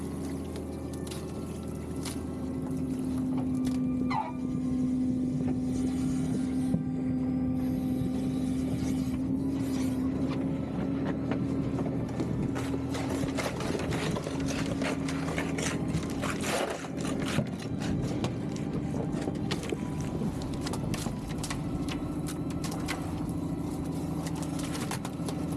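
Onboard sorting machines on a mussel farming boat run steadily with a continuous mechanical rumble and hum, overlaid with scraping, rattling clatter and trickling water throughout, with no talking.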